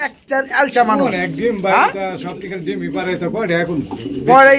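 Pigeons sold with eggs and chicks coo in a steady, close, rolling series of throaty calls, with a person talking over them.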